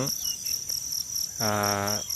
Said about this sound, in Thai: รายรอบก็จะมีเสียง จิ้งหรีด นะครับ เสียง จิ้งหรีด เสียง แมลงนะครับ